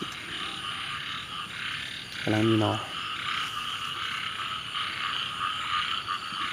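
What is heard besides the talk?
frogs croaking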